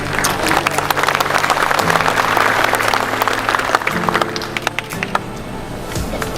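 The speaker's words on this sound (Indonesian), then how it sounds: "Memang tepuk tangan itu kalau tidak ada sepedanya tidak terlalu keras." A live audience breaks into applause, a dense patter of clapping that carries steadily for several seconds and slowly thins toward the end.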